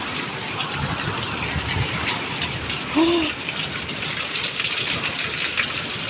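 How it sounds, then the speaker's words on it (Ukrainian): Hail and heavy rain fall in an April thunderstorm, a loud, steady hiss and patter of downpour that stays constant, with a brief tonal sound partway through. "Град."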